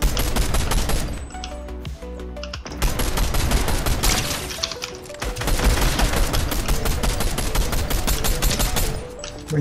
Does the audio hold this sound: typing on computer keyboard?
no